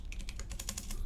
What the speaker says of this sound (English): I'm just gonna type it out, avrdude.exe.